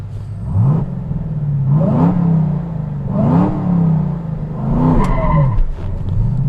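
A Hennessey HPE850 supercharged Hellcat pulls hard with traction control switched off, its engine roaring loud and close and climbing through several gears in a rising-and-falling rhythm of revs, with a sharp shift bark near the end.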